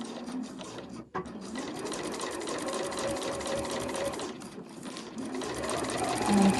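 A sewing machine stitches a seam with a 2 cm seam allowance. It opens with a short back stitch, pauses briefly, then runs in a steady, continuous whir, with no voices.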